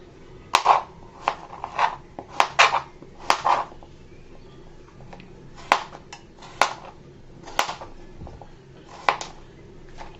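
A knife cuts through sweet pumpkin in irregular crisp chops and scrapes, a dozen or so sharp strikes against a board with quiet pauses between.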